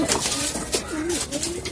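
Pigeons coo in low, wavering tones amid noisy loft background, a few close calls overlapping within a brief stretch.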